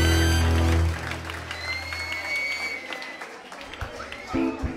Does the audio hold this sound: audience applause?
yes